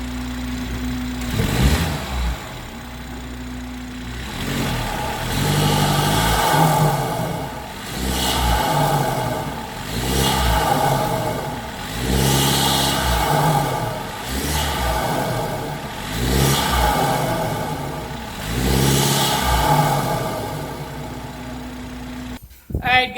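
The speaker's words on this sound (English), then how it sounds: "Finally time to hear how the engine intake sounds." A BMW F30 with a B48 engine and an Injen cold air intake revs repeatedly in short bursts, rising and falling about every three seconds with a deep intake growl, close and loud.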